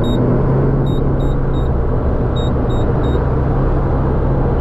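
A 2019 Toyota Vios with a small four-cylinder engine drones steadily while driving, a loud continuous cabin rumble with road noise and a few faint, repeated high beeps.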